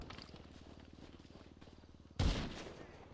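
Rapid rifle fire from a marksman rifle in GTA Online, a fast run of evenly spaced shots followed by one louder, closer blast, set against steady game background noise.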